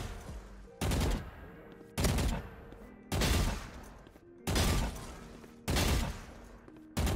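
Bursts of rifle fire in Valorant as the player falls back toward cover, with six loud, evenly spaced volleys each lasting about half a second, separated by quieter footsteps and game ambience.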